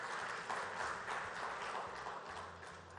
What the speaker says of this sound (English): let's give the Chief Minister a very warm round of applause for that.